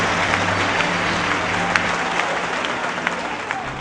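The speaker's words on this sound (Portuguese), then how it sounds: "tomem seu assento, aplaudindo a Jesus" A church congregation applauds in praise of Jesus, a dense, steady patter of many hands that holds at an even level throughout, with a faint voice and a low sustained tone underneath.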